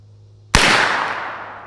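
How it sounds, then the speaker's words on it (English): A single unsuppressed ZF5 rifle shot firing 115 grain Monarch ammunition, a sharp loud crack followed by a long rolling echo that slowly fades outdoors. "So first shots will be with the ZF5 unsuppressed 115 grain Monarch"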